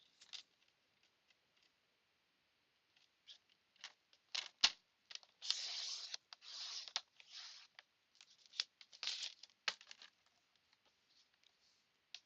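Paper being cut in a craft room: quiet, scattered snips and scraping swishes of a blade through a sheet, in short irregular bursts with silent gaps between.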